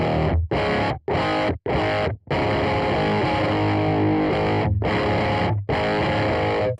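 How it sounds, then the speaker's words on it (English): Electric guitar played through a Source Audio Kingmaker overdrive pedal set to a woolly, near-fuzz distortion, loud sustained chords with several short choppy stabs and brief silences between, then a long ringing passage. "it's almost kind of fuzz territory, but it's a very, very woolly sounding overdrive."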